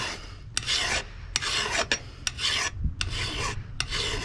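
A hand file rasps across a steel lawn mower blade during sharpening, giving about seven close, rhythmic scraping strokes with brief pauses between them and no talk.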